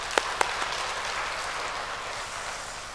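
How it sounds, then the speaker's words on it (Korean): A church congregation applauds together during a Pentecost Sunday service, a faint, even patter of clapping with a couple of sharper claps at the start. "하나님께 영광의 박수 올려드리겠습니다"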